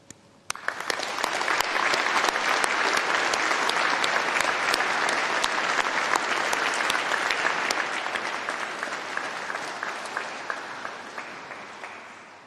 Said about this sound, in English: let's give a round of applause and a really massive cheer to say thank you to all of those who've supported you along the way